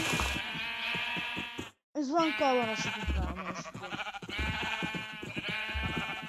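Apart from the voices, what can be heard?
sheep bleating in Minecraft video game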